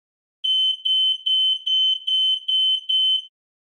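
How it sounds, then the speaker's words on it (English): A smoke detector sounds seven rapid, shrill beeps in quick succession, loud and insistent, with silence before and after. "And the smoke detector went off."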